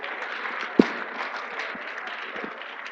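An audience at a children's gardening and small animal rearing competition in Ghana gives a round of applause, a dense, fairly close patter of clapping with one sharp louder clap near the start.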